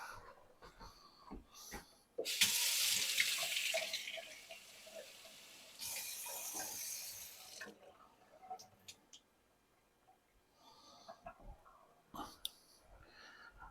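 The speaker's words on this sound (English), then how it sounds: "Grab some cold water from the sink." Cold water runs from a kitchen sink tap in a sustained gush, stops, then briefly flows again, surrounded by quiet clinks and handling noises at close range.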